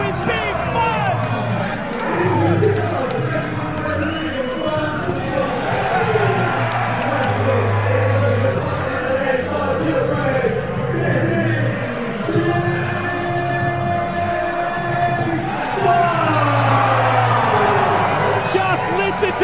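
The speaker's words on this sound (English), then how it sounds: "Just listen to the crowd here at the Metro, boys." Wrestling crowd at a Pro Wrestling Australia event at the Metro, a dense hubbub of cheering and shouting that fills the hall throughout, with a commentator talking over it.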